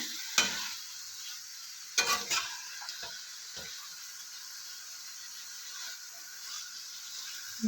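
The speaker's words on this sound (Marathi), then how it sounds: "दोन तीन मिनिट असं खालीवर करून घेणार आहे तर अळणी चिकनसाठी काही नाही केलेलं एकदम थोडंसं तेल घातलं आहे आणि त्याच्यामध्ये मॅरिनेट केलेलं चिकन टाकलं आहे" Marinated chicken stir-fried in a little oil over high heat: a steady, moderate sizzle punctuated by a few sharp scrapes and knocks of the spoon against the pan, close by and without speech.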